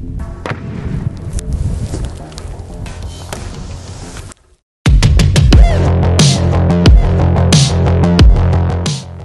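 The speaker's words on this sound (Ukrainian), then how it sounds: "Увага, постріл!" Sharp, loud bangs in rapid succession from an AGS-17 automatic grenade launcher in the Ukraine war, a dense cluster of shots and impacts after a brief pause, with echoing blasts.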